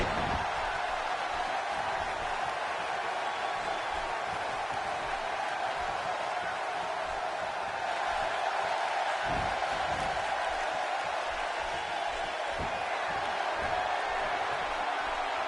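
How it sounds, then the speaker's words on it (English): Steady crowd noise from a WWE 2K18 video game wrestling match, a 205 Live show in universe mode, fills the whole stretch as a dense, even roar with faint cheers rising now and then. "Akira Tozawa getting the crowd excited."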